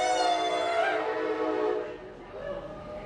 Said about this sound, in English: We are next to an active train line, so when the train comes, we say choo-choo!